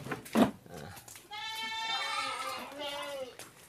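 A South African meat goat on a livestock farm gives one long, loud wavering bleat close by, after a brief thump and some voices in the background.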